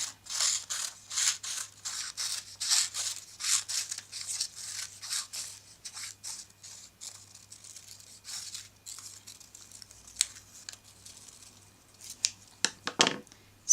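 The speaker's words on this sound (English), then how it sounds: "Then take your scissors and cut" Scissors snip steadily through paper along a spiral shape in a series of close, crisp cuts, with a few sharper crinkles and rustles toward the end.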